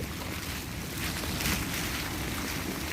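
A rainstorm with strong wind sweeps through a jujube orchard in Thailand, a dense, steady roar of rain and gusts buffeting the microphone.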